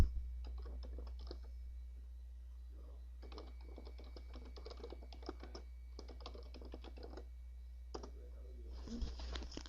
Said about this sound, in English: I'll type that in now.